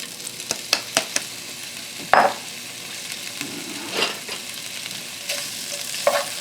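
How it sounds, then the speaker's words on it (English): Seitan sears in a hot pan with a steady low sizzle, broken by a few sharp clicks and occasional scraping stirs, close and fairly quiet, with no voices. "we're just going to sear it for about 5 to 7 minutes until it's brown on all sides"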